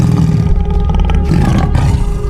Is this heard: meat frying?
no